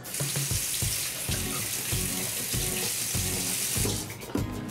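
Sink tap water runs steadily over a pair of glasses lenses, a close, continuous splashing hiss with faint rhythmic knocks as the lenses move under the stream and no speech.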